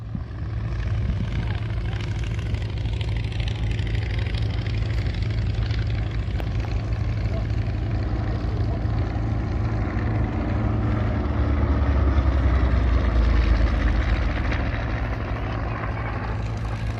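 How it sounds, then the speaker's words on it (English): A Focke-Wulf 190 fighter and a vintage Po-2 biplane fly past at a World War 2 reenactment airshow, a steady propeller drone that swells louder toward the end. "high-speed fighter discouraging a vintage biplane like that"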